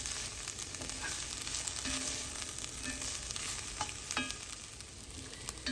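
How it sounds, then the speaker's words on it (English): Mushrooms, peppers and other vegetables sauté for a slow-cooked bolognese sauce, a steady close sizzle and fry with occasional scraping stirs and light clinks throughout. "we're probably going to give it another 5 minutes here to saute"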